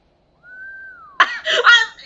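A character in a dubbed Fullmetal Alchemist anime episode gives one smooth, nonchalant whistle that glides slightly downward. Voices and other sounds follow right after it.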